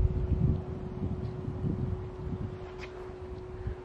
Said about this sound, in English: it's very cool and breezy today